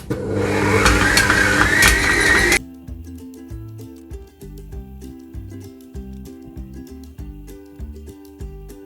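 An electric mixer whirs loudly while beating butter for sablé dough, a steady motor whine that rises slightly in pitch, then stops abruptly and gives way to quieter, intermittent tones.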